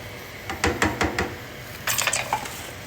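Metal utensil scraping and tapping against a non-stick pan to loosen stuck chicken seasonings, a quick run of close, sharp clinks followed by a second brief cluster of scrapes.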